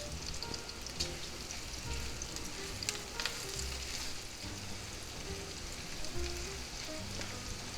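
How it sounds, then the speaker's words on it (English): Beef, onions and peppers fry in a pan for quesadilla filling, making a soft, steady, rain-like sizzle that carries on evenly throughout with faint crackles and no voices. "let's give that another quick stir"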